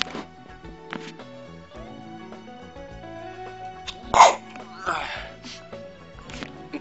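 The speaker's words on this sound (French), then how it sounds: "Je sens que je vais éternuer." A single sharp sneeze bursts out once, near and loud, over background music from the pirate game Pixel Piracy.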